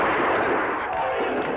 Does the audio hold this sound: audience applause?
no